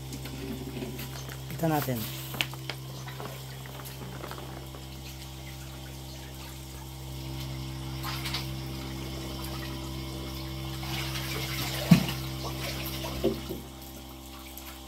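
Water pours continuously from a hose during sorting of hito catfish, a steady rushing wash with occasional splashes and clatters, while people talk over it.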